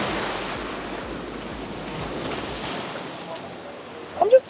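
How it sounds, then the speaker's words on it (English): Surf washes continuously onto an almost empty beach in Bali, a broad roar of breaking waves with wind buffeting the microphone and a brief louder gust or bump at the end. "Oh, just a brilliant, brilliant beach."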